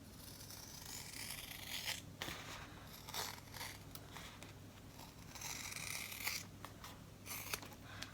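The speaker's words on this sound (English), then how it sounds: "I cut pretty close to the stitches without cutting the stitches." Scissors snip through fabric close to the stitching of a sewing project, a run of crisp cuts and rustling cloth with short pauses between strokes, near and fairly quiet, with no talk.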